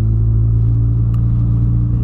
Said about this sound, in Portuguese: É um pouco sobre o escape esportivo do Polo